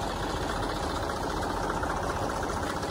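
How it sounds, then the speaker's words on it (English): A tractor engine runs steadily on landscaped resort grounds, a continuous loud rumbling drone with no pauses and no talk. "Got an entire tractor out here."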